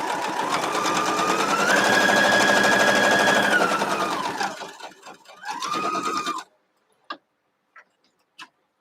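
A hand-cranked, non-electric sewing machine stitches fabric pieces with a rapid, steady mechanical whir and rattle that runs for several seconds, briefly slows, restarts, then stops, leaving a few soft isolated clicks.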